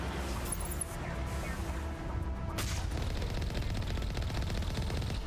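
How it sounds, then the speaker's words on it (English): Continuous rattling gunfire in Mass Effect 1 on Vermire, dense bursts of shots with booming impacts filling the whole stretch, loud and steady with no pauses. "Just me shooting at extreme ranges at this guy over here."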